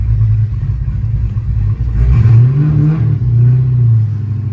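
A Dodge Hellcat engine with a choppy camshaft idles loud and close, a deep, uneven rumble that swells briefly midway and then settles back.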